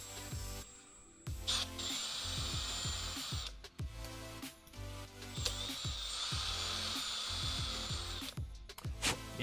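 Power drill tapping threads into plastic parts during a Prusa Mini+ style 3D printer kit build, running in two long sustained whines with short bursts between, close and steady, with clicks and handling noise.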